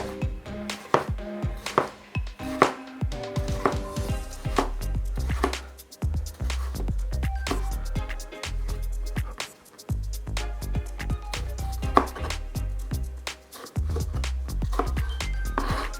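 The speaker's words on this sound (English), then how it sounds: "Got a couple of tomatoes here, which I'm going to slice fine again." A knife slicing tomatoes finely on a chopping board, a rapid run of close, crisp cuts and board knocks in quick rhythm, with music playing underneath.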